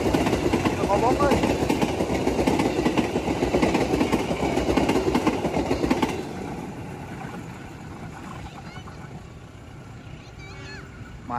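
A train rumbles loudly along a railway beside a roadside food stall near a station, its steady clatter filling the first six seconds before easing to a lower, fainter rumble as it moves off.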